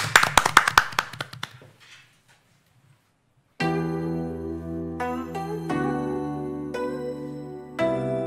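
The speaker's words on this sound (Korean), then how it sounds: "박수로 청해 듣겠습니다" An audience greets a trot singer with a short flurry of sharp, scattered claps that thin out and fade, followed by a pause of near silence before a song's instrumental music starts.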